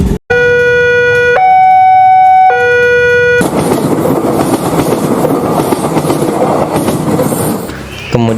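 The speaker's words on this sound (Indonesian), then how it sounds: "Kemudian kereta berangkat." A train horn sounds in sustained tones, then loud rumbling and clattering of rolling wheels as a train moves off, close and steady.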